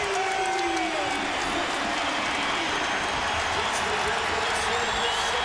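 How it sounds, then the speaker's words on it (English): The crowd at a Syracuse Orange basketball home game against Pitt keeps up a steady, broad roar of cheering and noise filling the arena, with no clear breaks. "Crowd trying to get engaged."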